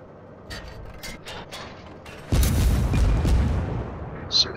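Warship guns firing in World of Warships, a heavy booming salvo that suddenly swells and rumbles for a couple of seconds, preceded by several fainter distant shots and followed by a short sharp report.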